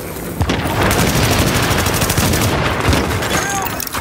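Heavy automatic gunfire and bursts of shooting from Tom Clancy's The Division video game, loud and continuous across the whole clip, with dense rapid shots and occasional heavier booms, no talk.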